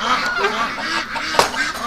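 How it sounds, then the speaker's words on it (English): Farm ducks and geese honk and quack loudly and close by as they are given fresh water, with several overlapping calls in a quick burst. "So we'll give the ducks some fresh water. Oh, listen to them."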